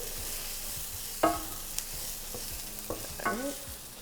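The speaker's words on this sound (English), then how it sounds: "I'm gonna go ahead and add my garlic. Just cook that for an additional minute" Garlic and golden onions frying in a pan, a steady close sizzle with a few scraping stirs and clicks of a utensil against the pan.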